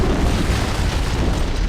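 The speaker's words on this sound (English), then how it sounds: "I'd guess an antimatter charge." An antimatter charge explosion in a Halo: Combat Evolved cutscene: a sustained, loud, rumbling blast with heavy low-end roar that fills the whole moment without pause.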